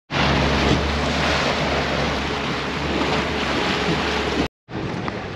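Ocean waves and wind wash steadily around a small fishing boat heading home through building seas, a loud continuous roar with a brief cut near the end.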